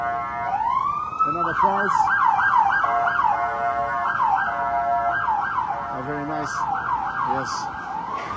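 A police car siren wails in repeated rising and falling sweeps, fairly loud and steady, while people talk briefly over it.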